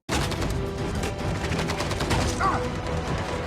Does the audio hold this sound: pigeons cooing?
no